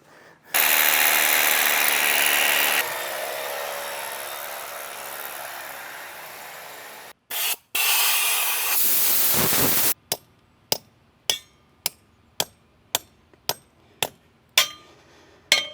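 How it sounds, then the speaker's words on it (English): A drill boring a hole through deck framing gives a loud, steady grinding whir for several seconds. It cuts off and restarts, then gives way to a run of sharp, evenly spaced knocks. "Brad, I think I'm gonna let you drill this hole."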